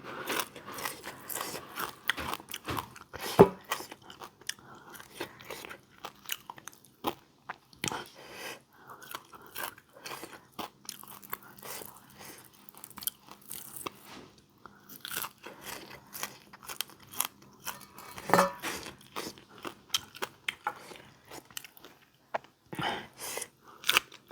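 Someone eats fried mackerel with close, crisp crunching and wet chewing. The bites come in an irregular but continuous rhythm, with brief pauses, and no talking.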